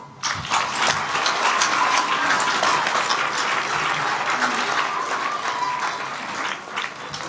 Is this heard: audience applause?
yes